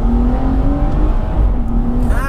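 A 420 bhp BMW M240i with a JB4 tune accelerates hard, its engine note a loud, steady, close-up drone that climbs in pitch and swells near the end.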